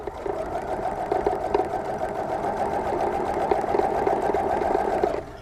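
A sewing machine running one continuous stitching pass along a log cabin quilt seam, a close, steady whirring hum for about five seconds that stops abruptly, with no talk.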